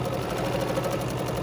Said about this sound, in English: I get started by sewing a few stitches, using my quick reverse and going backwards.